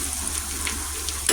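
Hot oil poured onto spices for street-style chilli oil, giving a steady, close hissing sizzle that runs through the brief moment with no talking.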